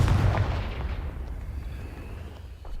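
Confringo fire spell blast in the video game Hogwarts Legacy, a loud booming burst at the start that decays into a long rumbling tail, with no talk over it.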